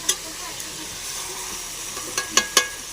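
Chicken pieces fry in oil in a pan, a constant soft sizzle broken by a few sharp clicks and scrapes of stirring near the end.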